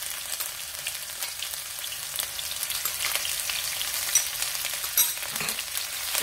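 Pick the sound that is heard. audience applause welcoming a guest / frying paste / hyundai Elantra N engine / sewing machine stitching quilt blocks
frying paste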